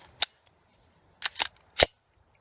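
A round is chambered into a Glock 19 pistol with sharp, close metallic clacks: one click, a faint tick, a quick double clack, then a final loud snap, with no talking.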